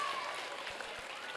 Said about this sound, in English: Let's give a huge round of applause for the boys who just rocked the stage.